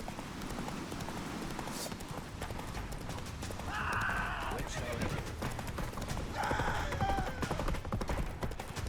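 Roach, the horse in the Witcher 3 video game, gallops with rapid hoofbeats and neighs twice over a busy game soundscape, with voices faintly mixed in.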